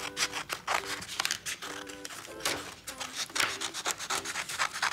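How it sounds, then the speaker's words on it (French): Scissors cutting through cardboard to shape bat wings for a craft, giving a run of close, crisp snipping and rubbing strokes in an uneven rhythm with no talking. "On commence à découper."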